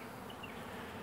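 Honey bees clustered around a hive after being removed from a wine barrel, a steady close buzzing drone that holds evenly throughout, quiet and uninterrupted by voices.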